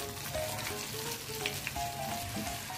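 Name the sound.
chili pakoda slices frying in hot oil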